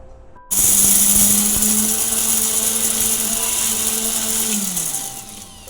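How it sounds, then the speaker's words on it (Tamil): A mixer grinder runs loud and steady, grinding soaked black kavuni rice and green gram in a mixie jar into a coarse rava texture, starting abruptly and winding down near the end. "இதை மிக்சி ஜாரில் சேர்த்து ரவை பதத்துக்கு அரைச்சி எடுத்துக்கலாம்"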